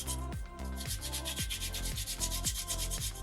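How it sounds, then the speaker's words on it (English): Sandpaper rubs back and forth across a small soapstone shark carving in quick, rhythmic strokes, close and scratchy with no voices. "I'm just trying to get the sandpaper to do the work for me. I'm just keeping it in contact with the stone."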